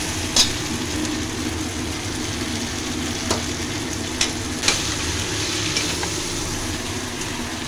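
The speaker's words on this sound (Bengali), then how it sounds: "এইবার আমি মাংসটা দিয়ে দিলাম" Meat sizzles in spiced oil in a dense, steady hiss, broken by a few sharp knocks of a utensil against the pot, close and fairly loud throughout.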